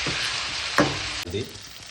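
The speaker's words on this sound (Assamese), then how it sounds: "মাংসখিনি অলপ এই তেলটোত ফ্ৰাই কৰি লওঁ।" Chicken meat frying in oil in a pan, a steady close sizzle with a brief louder crackle and stirring scrape partway through.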